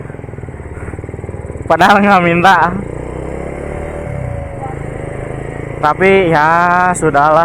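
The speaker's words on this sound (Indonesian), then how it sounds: "udah beres digeber-geber motor" Motorcycle engines rev hard in two loud bursts amid a street celebration of Persib fans, with a lower idling engine rumble between them and someone talking over the noise.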